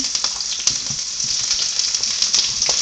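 Sliced white onion frying in a hot pan for fajita tacos, giving a steady, close, dense sizzle that runs the whole time, with a few small spikes and no talking.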